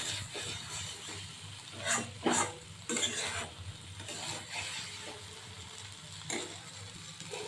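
Mustard-poppy seed masala for a rui and bhola fish curry fries in a pan, a soft, fairly quiet sizzle with intermittent scraping bursts as a spatula stirs it.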